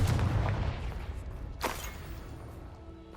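A blasting-spell explosion in Hogwarts Legacy gameplay, a deep rumbling boom at the start followed by a single sharp crack, with game noise fading out afterwards.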